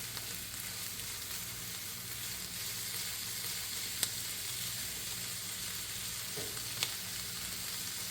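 Yucca flowers frying in a pan, a steady, even sizzle and crackle holding throughout, close and continuous with a couple of sharp pops or utensil taps, no talking.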